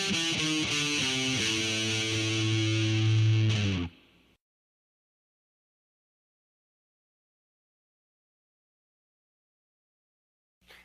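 Heavy metal electric guitar lick played fast through distortion, a quick run of many short notes for about four seconds, loud and close, then a long silence.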